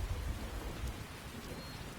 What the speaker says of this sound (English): Oh good, it's raining.